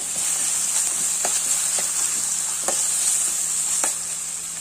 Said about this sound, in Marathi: तर त्या कांद्यामध्ये घालून घेत हे शेंगदाणे आणि हरभऱ्याची डाळ भिजून घेतलेली ती परतून घ्या